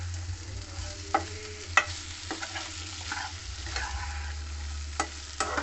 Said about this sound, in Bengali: এবার ভালো করে কুমড়ো আলুটা মিশিয়ে নেব।